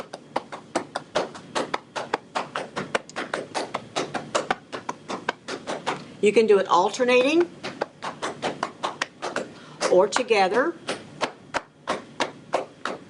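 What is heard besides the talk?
cupping tapotement massage percussion on a covered body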